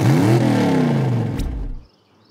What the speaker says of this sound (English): Racers, start your engines!